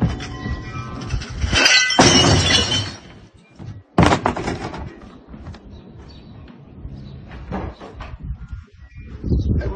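Jack Daniel's whiskey glasses smash in loud, close crashing bursts, one long breaking clatter followed by a sharp single impact, with rustling and handling noise between.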